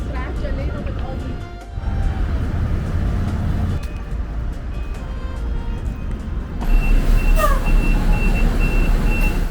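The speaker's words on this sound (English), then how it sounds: "The streets became busier, the traffic got louder" Busy street traffic in Taipei rumbles steadily nearby, with passing vehicles, engine drone and occasional beeps, while voices murmur in the background.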